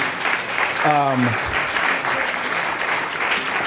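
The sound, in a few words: audience applause for Mark Morial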